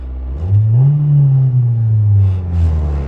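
A free car's engine idling rough before repair, a loud close-up low rumble with a wavering, uneven pitch that rises slightly and then settles, heard alone without talk.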